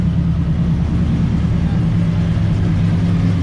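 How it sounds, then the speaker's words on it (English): A race car at a Prospec endurance event sits in the hot pit before dawn with its engine running, giving a loud, steady low rumble held at an even level throughout, no talk over it. "Got the car running."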